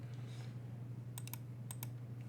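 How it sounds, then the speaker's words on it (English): Keys on a computer keyboard tapped in two short bursts of a few quick clicks each, close up over a steady low electrical hum. "I'm gonna start typing in here on the left side here."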